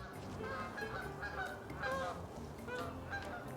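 Canada geese honk repeatedly in a loose, overlapping chorus at moderate distance over a steady outdoor background, with no talking.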